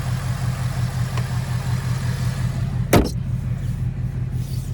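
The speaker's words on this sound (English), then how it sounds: "And there's that 5-liter V8." A Ford Mustang Dark Horse's 5-liter V8 idles with a steady, throbbing low rumble, interrupted once by a sharp click or clunk midway.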